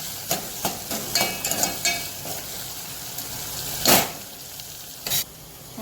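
Chopped tomato sizzles in hot oil in a pan for Gujarati-style masala moong, a steady close frying hiss broken by a few sharp clinks and stirring scrapes.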